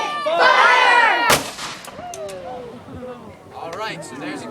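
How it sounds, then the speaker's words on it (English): A ceremonial cannon salute fires a single sharp, loud boom right after a crowd shouts together. Scattered voices and talk follow as the blast fades. "so there's a cannon salute for everyone here today"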